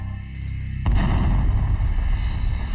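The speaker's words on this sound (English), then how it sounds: "satellites picked up the greatest cosmic explosion ever recorded" Deep booming explosion sound effect for a cosmic blast in a space documentary, a sudden heavy impact after a low rumble, followed by a sustained roaring, crackling rumble.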